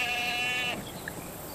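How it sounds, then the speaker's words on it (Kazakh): A goat gives one close, wavering bleat that lasts under a second and then stops, leaving quiet outdoor background. "Ана отырған ешкіні көріп тұрсың ба?"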